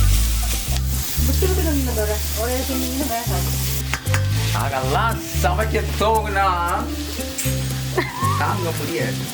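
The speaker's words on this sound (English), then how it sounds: "Cook it down until the onions are soft." Curry leaves and red onions with salt frying in a pan until soft, a steady sizzle sitting beneath loud melodic background music that runs throughout.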